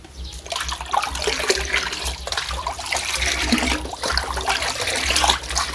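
Photosynthetic bacteria liquid poured into water, giving a steady close splashing trickle with gurgling swells that carries on for several seconds, with no speech.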